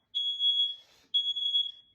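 Smoke alarm under test sounding two long, loud, shrill electronic tones close by, the first about half a second long, then a short gap and a second tone of about the same length.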